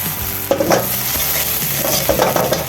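White onion sautéing in cooking oil in a pan, a steady broadband sizzle with scraping stirs and clinks of a utensil, close and fairly loud, no talking.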